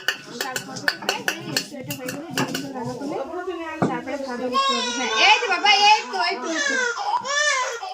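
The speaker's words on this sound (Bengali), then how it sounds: "ওইদিকে মেয়ে কান্না শুরু হয়ে গেছে" A young daughter crying loudly and steadily in a home kitchen, high wailing sobs rising over clattering dishes and cutlery, with an adult voice speaking nearby.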